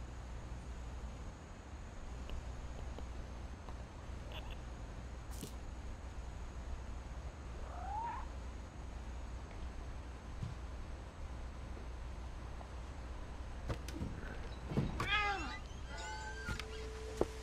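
A cat meows in the video game What Remains of Edith Finch, several short, faint calls near the end over a steady low ambient hum.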